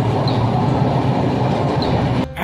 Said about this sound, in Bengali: এতক্ষণে মনে হলো যে এটা দুরন্ত এক্সপ্রেস, মানে এতক্ষণে গাড়িটা জোরে চলা শুরু করলো আর কি।